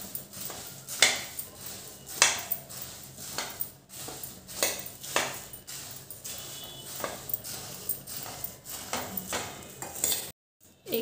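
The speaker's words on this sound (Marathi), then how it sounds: "तर एकसारखं हे हलवायचं." Puffed rice (murmure) stirred in a pan for bhadang: a rhythmic series of spoon scrapes and light clinks with a dry rustle of grains, close and quiet, with no talking.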